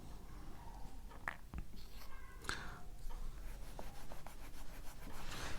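Pen scratching out Pashto letters by hand on paper, soft faint strokes and taps scattered through a quiet room, with quiet speech at moments.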